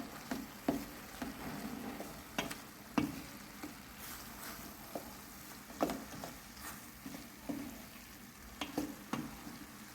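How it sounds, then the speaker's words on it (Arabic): Garlic, salt and other ingredients are mixed in a pan, giving a soft, continuous sizzle with scattered clicks and scrapes of stirring, faint and steady throughout. "وعاد نخلط العناصر هكا."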